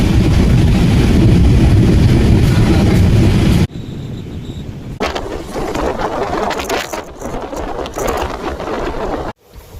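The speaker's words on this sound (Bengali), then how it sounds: "চা বাগানের মধ্য দিয়ে ট্রেন চলছে ছুটে" The Teesta Super Express rattles through tea gardens with a loud, steady rumble and clatter. Partway through, the sound drops to a quieter rolling with intermittent knocks and bumps.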